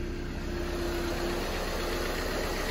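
A Volkswagen Jetta SportWagen TDI diesel idles with a steady, close, even engine drone and a faint rattling clatter, holding constant without any revving.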